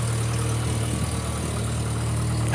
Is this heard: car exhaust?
yes